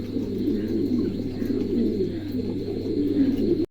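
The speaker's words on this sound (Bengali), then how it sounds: "চমৎকার এক জোড়া কবুতর" A pair of pigeons coos continuously and steadily at close range, soft low rolling calls over a faint hum, with no talking.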